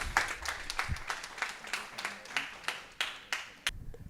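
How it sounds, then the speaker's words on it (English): An audience at an East Gathering master talk gives light, scattered applause, with individual claps fairly distinct and at a modest distance before stopping near the end. "Can we have another round of big applause to Otto?"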